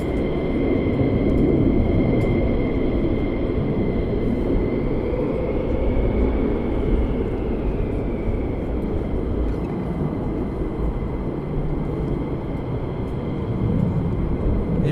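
Lockheed C-5 transport aircraft inbound on approach to RAF Mildenhall, lowering its gear, heard as a steady, distant engine roar with a faint high whine holding level throughout.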